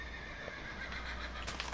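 Horse in the video game Minecraft whinnying, a single close, fairly loud neigh with a shaky, rising voice against a steady background hum, with no one talking.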